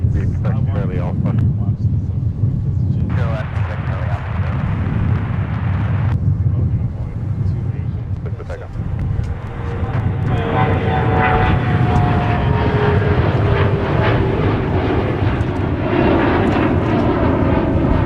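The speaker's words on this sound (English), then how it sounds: "we got another CRJ that's going to leap off the south parallel into the sky" CRJ regional jet taking off from a parallel runway at MSP airport on a gusty day: a loud, sustained engine roar building with a rising whine, steady throughout under heavy wind rumble.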